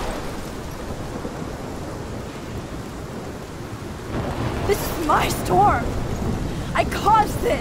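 Rainy thunderstorm in the video game Life Is Strange, a continuous rain wash with rumbling building later, partly under a voice speaking toward the end.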